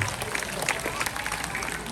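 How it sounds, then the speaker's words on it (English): An audience claps for an owl at a night safari show, dense steady applause filling the whole moment with crowd noise mixed in. "Let's give a round of applause to Oscar as well as Alfie"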